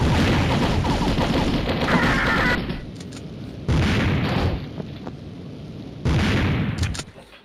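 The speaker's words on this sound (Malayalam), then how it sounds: "ബോംബ്" A bomb going off in the mobile shooter game Mini Militia: loud, dense blasts with rumbling bursts of gunfire in several waves separated by brief lulls, close and overpowering.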